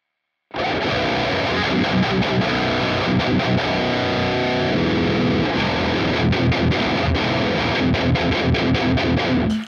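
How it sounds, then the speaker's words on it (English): A heavily distorted electric guitar, played through the Neural DSP Archetype Petrucci with an octave-down pitch effect, plays continuously and loudly, its tone thickened by a lower octave doubling beneath the notes. "when you use a pitch effect and pitch down, like down to an octave"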